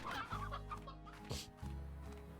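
Chickens and a rooster clucking in a video game, a few close, repeated clucks and short calls over a steady low background drone, no talking.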